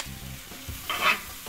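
Tomato paste, about three tablespoons, goes into a hot pan for a Jamaican-style sauce, giving a short, soft sizzle with a brief stirring scrape, close and fairly quiet, with no talking.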